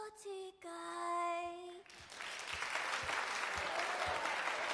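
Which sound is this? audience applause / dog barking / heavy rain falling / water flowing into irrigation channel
audience applause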